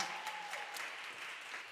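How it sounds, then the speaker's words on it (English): Audience applause at a Moth Mainstage storytelling show at St. Ann's in New York, a dense, steady wash of many hands clapping throughout, fairly distant and even in level, with no talk over it. "It feels good to applaud."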